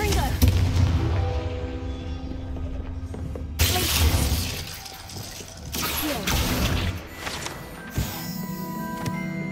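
Confringo explosive spell fired in the video game Hogwarts Legacy, producing sharp blasts and shattering bursts with whooshes in a loud combat mix, plus sudden strong hits around the middle, with some game voices.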